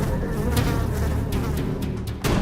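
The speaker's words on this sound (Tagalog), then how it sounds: "Kumakapal ang bilang ng mga langaw na ito kada harvest season." A dense swarm of houseflies in a house in Laguna during harvest season, buzzing steadily and close, with a continuous droning hum and occasional louder passes near the ear.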